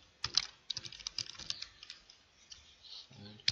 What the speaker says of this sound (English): So from the code, we're just going to type the name of the file.